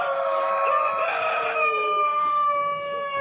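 Roosters at a national poultry exhibition crow in long, overlapping calls that sound close and loud, with a busy hall murmuring faintly beneath and no nearby talk.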